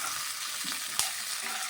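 Poppy seed and tomato masala fries in a pan for butter paneer, a steady close sizzle with a soft stirring scrape partway through.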